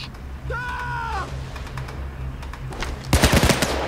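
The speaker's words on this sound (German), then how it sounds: "Was schießt denn hier so einzelne Schüsse?" A quick burst of sharp gunshots rings out near the end, loud and close, after a stretch of quiet game ambience with a brief whistling tone, in the video game PayDay 2.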